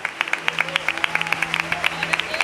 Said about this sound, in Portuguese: receber um aplauso da igreja por essa sua entrega para Jesus